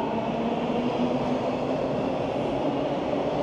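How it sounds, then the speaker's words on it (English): Subway train at Dufferin station in Toronto, a steady loud rumble of wheels and motors filling the platform with a faint whine running throughout. "I'm at Dufferin subway station."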